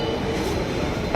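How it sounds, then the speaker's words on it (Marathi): A Hyderabad metro train rumbles along in a steady close drone, heard from on board, with no talking. "मेट्रोनी चाललोय"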